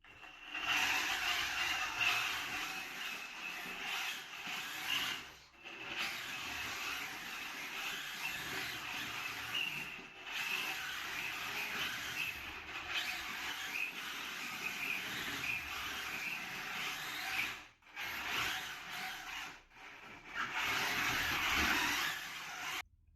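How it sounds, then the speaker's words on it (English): Electric drivetrain of a small combat robot whines and hums while being test driven, a continuous motor buzz that rises and falls with brief cutoffs, with no talk. "First up was to see how the drivetrain fared with such a small reduction."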